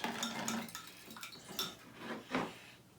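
Utensil scraping and clinking against a pan while spicy tofu teriyaki is stirred, a series of irregular close metallic scrapes and taps with short pauses between strokes.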